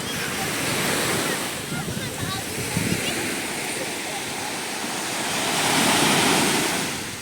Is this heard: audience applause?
no